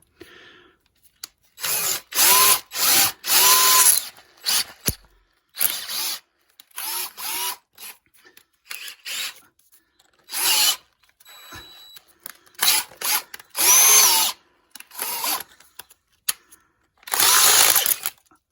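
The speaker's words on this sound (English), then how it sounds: "Not drilling quite as well as the first one" A power drill whirs in repeated bursts of a second or two, loud and close, starting and stopping over and over as holes are bored for an engine mount on a VW T4 Transporter.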